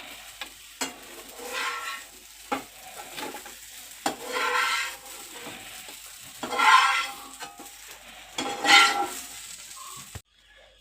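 Freshly fried food being scooped out of a pan onto a plate with the gas turned off: intermittent scraping and stirring scrapes with a light lingering sizzle, close and moderately loud.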